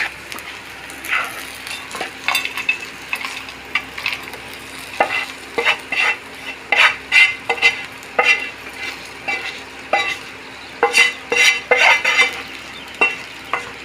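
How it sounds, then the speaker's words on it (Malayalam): Spice paste for peanut chutney fries in a pan with a steady sizzle, broken by repeated scraping strokes of a spoon stirring it, close and fairly loud. "എല്ലാം കൂടി ഫ്രൈ ആവട്ടെ"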